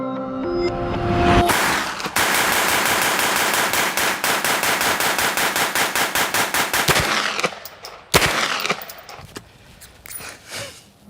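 Simulated rapid gunfire crackles loudly in a dense, fast burst of sharp pops lasting several seconds, then tails off into a few scattered louder bangs and softer rustling.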